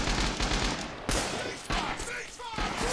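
Rapid gunfire in Rising Storm 2, a multiplayer war shooter: bursts of close machine-gun and rifle shots rattle almost without pause, with a loud crack about a third of the way in and further sharp reports toward the end.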